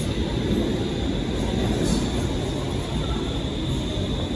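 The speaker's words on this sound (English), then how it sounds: "Finally, a train." Steady broadband rumble of a short metro train pulling into a busy Stockholm station, a continuous loud roar with faint high whine and no clear speech.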